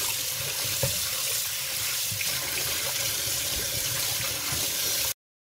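Fresh plums are rinsed under a running kitchen tap. The water splashes in a steady, close hiss for about five seconds, then cuts off suddenly.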